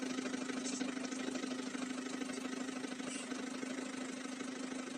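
Farm tractor engine idling steadily while bringing material for pepper seedling work, a constant mid-pitched rumbling drone with a fixed hum throughout, fairly distant and uniform, with no talk.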